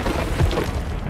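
An explosion in the animated Hot Wheels Monster Trucks cartoon comes as a short, loud, dense blast of rumbling noise with no clear speech.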